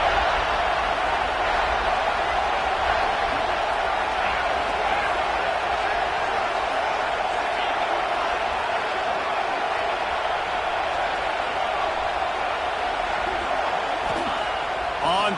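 Football stadium crowd roaring continuously at a loud, steady level, a dense unbroken wall of cheering that barely varies over about fifteen seconds.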